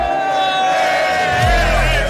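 Stadium crowd at a Bills–Patriots football game roars in a steady, loud wash of cheering, with a swell of noise building toward the end.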